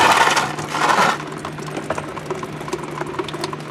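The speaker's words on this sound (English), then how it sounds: "as you guys can hear, the coolant's still draining" Coolant drains from a Ford 4.0 OHV engine into a bucket as a steady, fairly loud splashing trickle at first, easing after about a second into a quieter, continuous dribble with small irregular drips.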